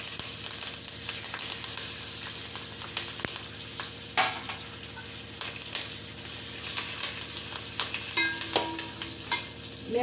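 Garlic and curry leaves sauté in hot oil in a pan for Nagpur-style thin poha chivda, a steady close sizzle broken by scraping and tapping of a stirring spoon, with no talking.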